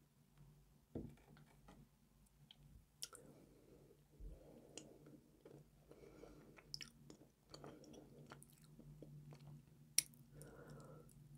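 Close, quiet chewing of syrniki, cottage cheese pancakes, with soft moist mouth sounds and scattered small clicks spread across the clip, no talking.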